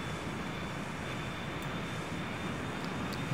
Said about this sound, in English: Start the APU. You can hear that running.